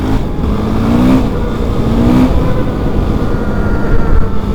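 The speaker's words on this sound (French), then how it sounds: "mon pneu avant, il fait un bruit du turfu" A car's front tyre makes an odd noise while driving on a snowy road at about 80 km/h, heard as a steady rumbling drone with brief rising tones inside the cabin and no talk.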